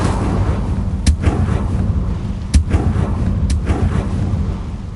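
In Hogwarts Legacy, an Incendio fire spell sets dry vines alight, giving a dense, roaring crackle of flames with several sharp snapping bursts, loud and continuous throughout. No talking.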